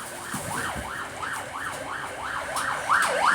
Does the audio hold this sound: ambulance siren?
yes